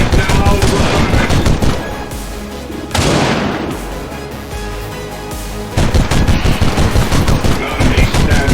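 Rapid automatic gunfire in the Warhammer XCOM 2 game, dense loud bursts of shots with a heavy boom midway, a quieter stretch, then sustained firing again.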